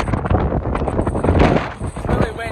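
Strong wind buffets the microphone in heavy, continuous rumbling gusts, loud and close throughout, at the front of a departing cruise ship.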